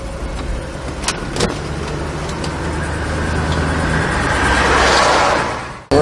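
A 1968 Buick GS 400 on the move, its engine note a steady road rumble with tire and wind noise that swells gradually over several seconds before cutting off abruptly.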